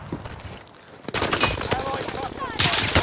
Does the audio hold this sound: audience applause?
no